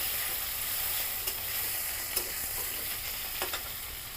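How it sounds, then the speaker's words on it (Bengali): Potato pieces fry in a pan, giving a steady, close sizzle with occasional soft scrapes from stirring, and no voices. "আর আলুগুলো সুন্দর করে ভেজে নিব।"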